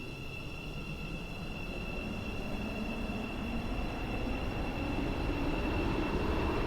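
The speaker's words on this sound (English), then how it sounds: "The train now approaching Platform 2 terminates here." A Roblox Stepford County Railway metro train rolls in to terminate at Platform 2, a constant broad rumble with steady high tonal whines that grows slightly louder over the stretch.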